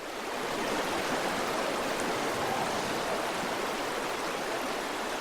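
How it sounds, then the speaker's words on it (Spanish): The Güéjar river in Meta, Colombia flows with a steady, full rushing wash of water that fills the whole stretch evenly, close and unbroken, with no voices. "El que están escuchando es el río Güéjar, en el departamento del Meta, en Colombia."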